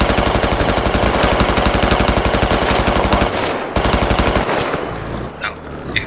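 Sustained rapid automatic gunfire from an anti-air gun and armor-piercing rounds in a military video game, loud and continuous for several seconds before a brief break and a fading burst.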